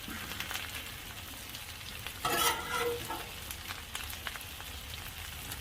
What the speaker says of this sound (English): Right now I'm going to go ahead and throw the bacon on top.